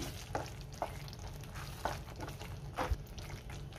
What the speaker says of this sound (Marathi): पुन्हा सगळं व्यवस्थित मिक्स करून घेते।